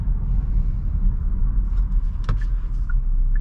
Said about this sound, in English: There's a little bit of impact noise from the tires over potholes and expansion joints